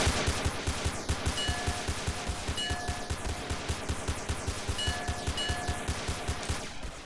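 Rapid gunfire from the SA-MP multiplayer game, with steady bursts of shots and short bright tonal hit-confirmation pings repeating over about seven seconds, loud and close.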